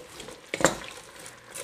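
Pancit canton noodles stir-fried with celery and cabbage in a pan, with a short scrape and clatter of stirring over a faint sizzle, close and brief.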